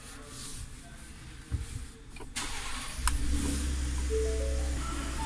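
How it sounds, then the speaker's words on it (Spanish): A 2019 Ford F-150 Lariat fires up after a brief starter crank, then settles into a steady, deep idle that rumbles close by, with light clicks and mechanical noise from the cab beforehand. "Vamos a encender el vehículo."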